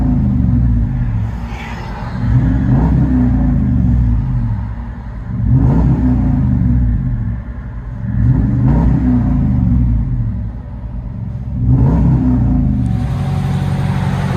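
A 2010 Dodge Ram 1500 with a 5.7L Hemi V8 and Black Widow Race Venom dual exhaust revs from inside the cab, giving four or five deep, loud surges that rise and fall back to a rumbling idle.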